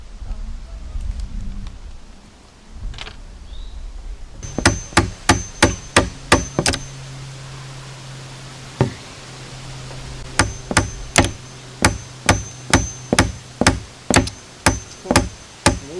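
Nails driven with a hammer: a series of sharp, ringing metallic blows in steady bursts, close and loud, after a short stretch of quieter background noise.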